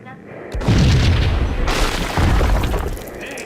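A deep, heavy explosion booms loudly in the Max Payne video game, a single blast with a rumbling tail and a second swell, while a voice speaks over it.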